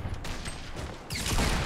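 Rapid gunfire bursts ring out in a shooting video game, a dense rattle that carries on throughout and swells louder in the final half-second.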